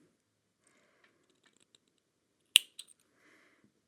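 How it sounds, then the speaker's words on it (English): Scissors or snips trim the cord ends off a spiral twelve-warp kumihimo bracelet: one sharp close snip followed by a couple of smaller clicks, set in near silence. "I'm going to come in with my scissors or snips here, and I'm just going to trim off those ends just like so"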